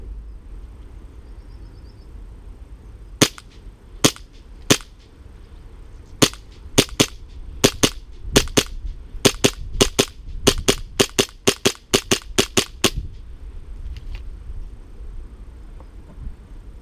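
Tokyo Marui Glock 34 gas blowback airsoft pistol firing outdoors, sharp loud cracks starting as a few spaced shots, then quickening into a rapid irregular string of about twenty, with no voices.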